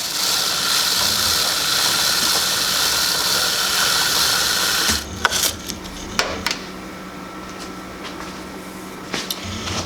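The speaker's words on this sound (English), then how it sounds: "once you've thoroughly sprayed chain cleaner on it and run your brush on both the top and bottom of the chain" Chain cleaner sprayed onto a Benelli TNT 135 motorcycle chain: a loud continuous aerosol hiss for about five seconds, then a quieter stretch of scattered scrapes and brush strokes with light clicks.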